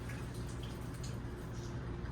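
Fresh tap water shaken and dripping out of a small chinchilla water bottle, a faint, steady wet trickle with light drips under a low background hiss, no voices.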